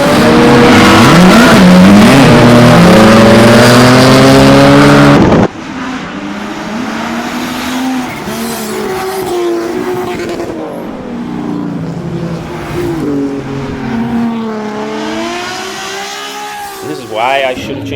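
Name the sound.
drift car engine revving on track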